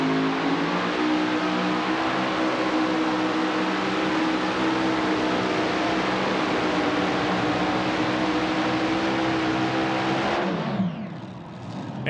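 A super modified pulling tractor of over 10,000 horsepower, weighing 7,800 pounds, roars at a tractor pull. The loud, sustained, even howl holds for about ten seconds, then winds down and fades near the end.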